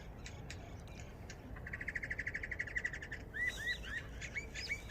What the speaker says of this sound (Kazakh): Мынандай әдемі құстар бар екен.